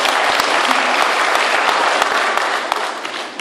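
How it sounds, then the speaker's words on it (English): Dense, steady applause from a graduation ceremony audience, loud and continuous throughout, tapering slightly near the end. "Can I have a applause for my"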